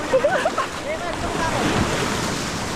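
Roaring ocean surf fills the scene, a steady broadband wash of breaking waves with wind buffeting the microphone throughout.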